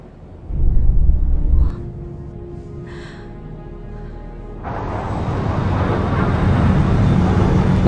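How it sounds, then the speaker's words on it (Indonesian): A science fiction aircraft arrives with a brief low thump, then a broad, swelling roar that builds and holds loudly to the end. "Namun pesawat yang dikirim Pika untuk menjemput Jack akhirnya tiba"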